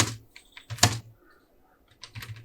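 C code typed on a computer keyboard, a few short bursts of crisp close keystrokes separated by brief pauses, with no talking over them.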